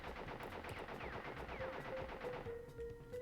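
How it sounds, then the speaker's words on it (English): Gunfire from the character Pinstripe's gun in the Crash Bandicoot video game, a steady rapid stream of game shots layered with music and effects, heard fairly quietly throughout. "I love how when his gun stops firing, he's still doing this."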